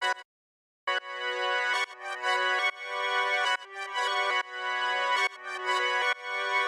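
A synthesized trumpet melody in FL Studio plays in choppy, stuttering phrases with effect tricks, reversed vocal swells and the lows cut by EQ, giving a thin, bright brassy tone after a brief gap near the start.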